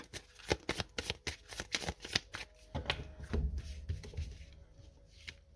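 Tarot cards of the major arcana shuffled and handled at close range, a rapid series of crisp riffling snaps followed by softer sliding and laying out of cards, no talk.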